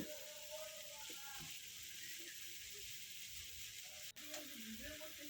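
Vegetables frying in plenty of oil in a pan keep up a soft, continuous sizzle and hiss, with a few light utensil clinks near the end.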